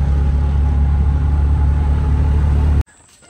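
An auto rickshaw carrying five people runs with a loud, steady, low engine drone, then cuts off abruptly near the end, leaving faint background noise.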